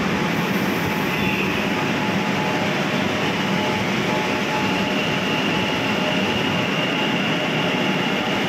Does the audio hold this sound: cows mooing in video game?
no